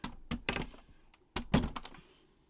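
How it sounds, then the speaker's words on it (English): Craft supplies knocked over on a cluttered table, making two bursts of clattering knocks and thuds with short gaps between them, close and fairly quiet. "Just knocked everything."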